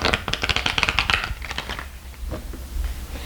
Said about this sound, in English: If you're a ruffle shuffler, get them lined up in your fingers like so and go for it.